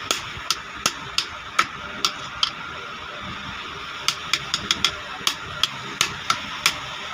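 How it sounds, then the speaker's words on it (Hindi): A screwdriver is hammered to seat a bushing in a Siruba 747K overlock machine, giving sharp metallic taps in two rhythmic runs separated by a short pause, close and clear over faint background hiss. "इस तरीके से हमने पेचकस फंसाना है और चोट मारते जाना है"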